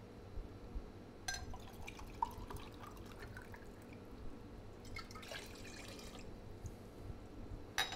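Sauvignon Blanc and vodka go into an iced tea punch as faint liquid pours and drips, two soft splashing bursts over a quiet background hiss.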